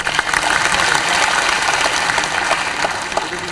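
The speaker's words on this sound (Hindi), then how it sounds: "इनका भी ताली बजा के स्वागत करो" Loud, dense applause from a large crowd at a political speech in Ravindra Bhavan, Bhopal, steady and sustained throughout with no pauses.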